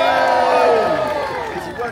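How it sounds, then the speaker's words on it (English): A crowd of children and adults cheers at a Halloween event at Kew in London. A loud, brief burst of mixed shouts and whoops rises and then tapers off over about two seconds. "Give yourselves a cheer!"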